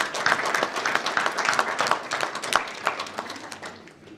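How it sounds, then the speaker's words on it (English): An audience at a World AIDS Day event gives a round of applause, a dense, steady clapping from many hands that carries on for several seconds and fades slightly at the end. "a round of applause"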